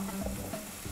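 Mixed ingredients sautéing in a pan make a steady, close sizzle and fry with faint stirring throughout, with no talking.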